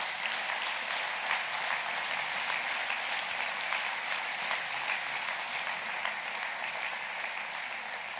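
A large audience applauds at a mayor's New Year's wishes ceremony, honoring the municipal police and gendarmerie; the clapping is dense, steady and sustained throughout, with no pause.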